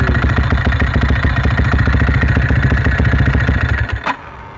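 A modified Yamaha Y15ZR motorcycle with an aftermarket dry clutch idles close by, its rapid metallic clutch rattle chattering over the engine's steady pulsing beat before cutting off abruptly near the end.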